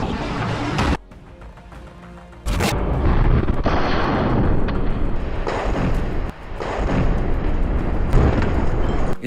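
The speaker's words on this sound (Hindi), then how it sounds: "सामने खड़े एक टैंक पर भी अल कासिम के लड़ाके आरपीजी फायर कर देते हैं" An RPG fired at an IDF tank in an urban combat zone, heard as loud, close booming blasts and rumbling explosions with sharp bursts and a brief quieter gap, alone without voices.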